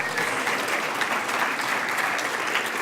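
A literary festival audience at an author talk claps in steady, dense applause that fills the hall for the whole stretch, with no voices over it.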